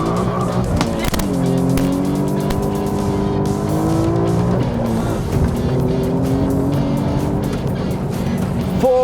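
A remapped Alfa Romeo Giulia Quadrifoglio launches from a standstill on an airport runway, tires squealing as the engine screams up through the gears with sharp shift breaks, loud and close.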